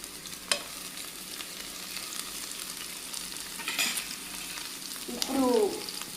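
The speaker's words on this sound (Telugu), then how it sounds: "ఇప్పుడు కొత్తిమీర కూడా వేపుతున్నాను." Onions, green chillies and coriander fry in a pan for a mutton and taro curry, a steady close sizzle broken by occasional scrapes and stirs of a spoon.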